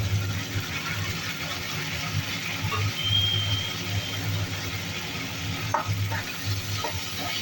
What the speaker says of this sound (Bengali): সব শুদ্ধ একসাথে ভালো করে এবার ভাজা ভাজা করে দেব।